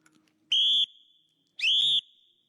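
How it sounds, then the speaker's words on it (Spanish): Two loud, shrill blasts from a traffic police whistle, each about a third of a second long and separated by a brief pause, standing alone with no talk. "En inglés dirían whistle, un silbato"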